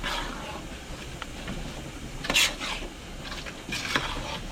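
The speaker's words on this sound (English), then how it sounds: "you want to make sure you stir this occasionally so the sugar don't burn" Zucchini bread jam cooks in a pot as a spoon stirs it, giving soft, faint scrapes and a few light clinks against the pot in an otherwise quiet kitchen.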